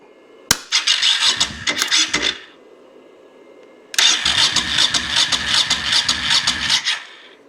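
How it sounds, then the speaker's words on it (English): Honda VT1100 motorcycle starter cranking in two bursts, the first about two seconds of rhythmic churning, then after a pause a longer run of steady cranking pulses, close and loud with no talk. "that tells me starter motor is good. The bike is now cranking."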